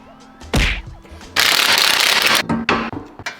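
A ratchet or power tool works on removing car wheels and Brembo brakes, loud close mechanical bursts of rattling clicks, a short one followed by a longer sustained run and a few choppy stops.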